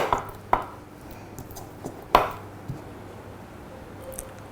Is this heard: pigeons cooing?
no